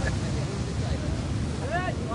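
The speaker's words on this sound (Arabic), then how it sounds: "فيما تدخل سفينة المياه الدولية تزداد سرعة الرياح" Strong wind buffets a handmade sailing ship entering international waters on a voyage toward Kochi, India, a constant roaring gust over the microphone with sea wash beneath and faint voices or creaks.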